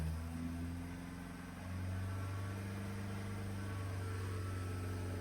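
A car engine is revved and held at about 3000 rpm in a mobile mechanic's tune-up check. A steady, droning engine hum rises slightly in pitch and sustains close by.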